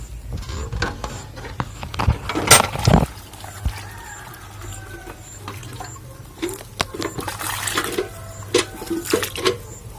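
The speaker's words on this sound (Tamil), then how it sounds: "இப்போ இந்த செடிக்கு நல்லா தண்ணி ஊற்றி விட்டுருவோம்" Water is poured into the pot of a table lemon plant, splashing and trickling in uneven bursts, near and moderately loud, with quiet pauses between pours.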